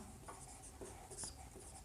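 A hand writes out the solution to a Pythagorean theorem problem during a maths lesson, giving soft, close scratchy strokes in short bursts with brief pauses, quiet and with no talk.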